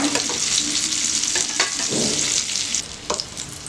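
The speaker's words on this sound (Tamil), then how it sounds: "நல்லா கோல்டன் ப்ரௌனாக நம்ம ஃப்ரை பண்ணி எடுத்துக்கலாம்." Cauliflower chicken patties fry in hot oil in a pan, giving a steady, close sizzle and crackle with a few soft stirring or turning sounds, and no talking.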